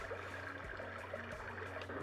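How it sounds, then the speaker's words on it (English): Continuous babbling brook sound from a Marpac Marsona sleep sound machine, a close, even trickling wash of water with a faint low hum beneath it. "a brook,"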